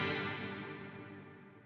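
A guitar rings out through a heavily modulated, spacey Line 6 Helix reverb patch, a single sustained wash that slowly decays and fades, heard alone.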